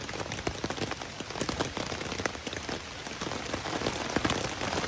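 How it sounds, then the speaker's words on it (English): Steady rain pattering on a surface, dense and continuous with close, distinct drops throughout. "I love sleeping in the rain."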